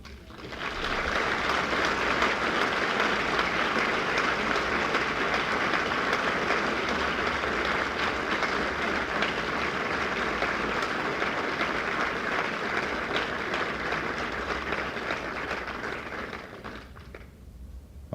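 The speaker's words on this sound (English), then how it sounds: "I think with that applause, I better stop." Audience applause at a 1969 campaign speech for Tom Bradley at UCLA, a dense, steady roar of many hands clapping for about sixteen seconds before trailing off, with no talking over it.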